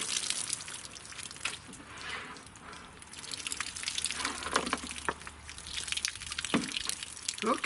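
Water drains and trickles out of a row of water-filled jugs after a 300 Blackout 190-grain subsonic bullet test, with steady dribbling and a few sharper drips, close and fairly quiet.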